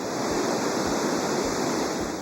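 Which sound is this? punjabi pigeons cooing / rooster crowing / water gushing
water gushing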